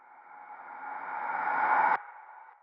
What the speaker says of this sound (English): listen to the panning of the reverse reverb